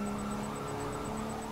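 A car engine humming steadily in Grand Theft Auto V during a police car chase, a constant faint drone with a whining tone and a rhythmic ticking above it, no talking.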